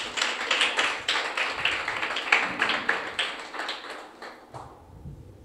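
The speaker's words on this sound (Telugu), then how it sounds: "చప్పట్లు కొట్టాలి ఒకసారి." A church congregation clapping together in a steady, even rhythm, a bright patter of many hands that fades out toward the end, leaving low background murmur.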